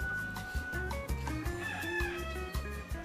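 Farm chickens cluck in a repeated, rhythmic series of short throaty calls, close and loud with overlapping birds and no talk.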